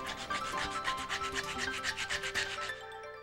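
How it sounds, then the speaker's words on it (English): Wooden wing parts for an I-beam wing are sanded smooth along their edges, producing a steady, rhythmic rasp of strokes close up with no voices. "Sand the edges smooth and then bevel the ends."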